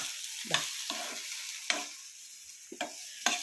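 Chopped apple sautéing in ghee for apple payasam: a soft continuous sizzle with a handful of brisk spoon scrapes and stirs spaced through it, close and quiet, with no speech.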